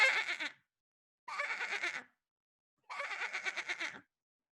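A human voice imitates a sheep's bleat three times, each a short wavering 'baa' with a pulsing tremble, separated by clear silent pauses and heard close and alone.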